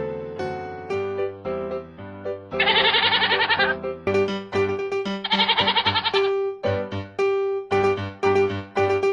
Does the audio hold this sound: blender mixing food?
no